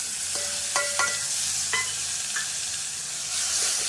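Tomatoes, finely chopped green chillies and whole spices such as cinnamon and bay leaf stirred in hot oil for a Kathiyawadi sweet-sour dal, with a steady sizzle and a few sharp scraping clinks of the spoon against the pan, close up.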